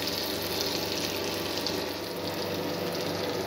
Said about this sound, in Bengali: পেঁয়াজ রসুনটা ভাজা হয়ে গেছে, যে মশলাগুলো নিয়েছিলাম সেগুলো যোগ করে দেব।